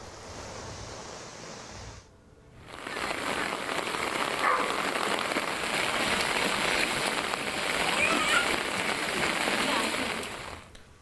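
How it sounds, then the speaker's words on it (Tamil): Heavy rain pouring down in intermittent bursts, a dense steady hiss that briefly drops out before returning loud and sustained, with a voice talking over part of it. "இடைவெளி விட்டு பெய்யும் கனமழை"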